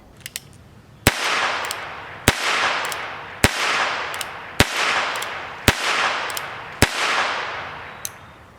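A Ruger Wrangler .22 single action revolver fires at a shooting range, six sharp, loud cracks spaced about a second apart with short decays, plus a few faint clicks between shots.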